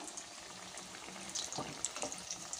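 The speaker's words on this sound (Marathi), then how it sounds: "हे बघा अशा प्रकारे बाकीचे कटलेटसुद्धा तुम्ही छान तळून घ्या." Pea cutlets shallow-frying in hot oil, a soft steady sizzle with scattered pops and a few sharper crackles toward the end, close and fairly quiet, with no talking.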